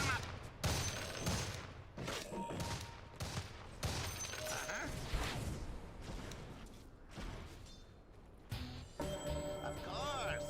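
Video game gunfire in a shoot-'em-up match, rapid bursts and volleys of shots with booms and mechanical clatter, mixed with voices talking throughout.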